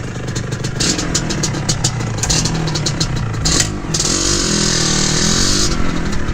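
A 1975 Can-Am TNT 250 two-stroke vintage track and trail motorcycle idles close by, its engine running as a steady, loud, uneven putter with a few blips of revving throughout.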